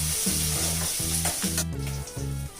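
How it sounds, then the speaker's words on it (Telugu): Dried red chillies, curry leaves and green chilli pieces fry in hot oil for Bombay chutney, giving a continuous close sizzle with a steady pulsing rhythm underneath. "ఎండుమిరపకాయల్ని తుంచి వేసుకొని కట్ చేసుకున్న కరివేపాకు, పచ్చిమిర్చి ముక్కల్ని కూడా వేసుకొని కొద్దిగా ఫ్రై చేసుకోవాలి"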